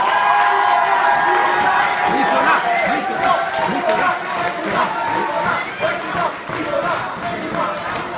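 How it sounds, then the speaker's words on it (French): An audience at a Lille student event claps and cheers loudly in a continuous roar, with shouts and voices mixed in throughout. "On l'applaudit très fort."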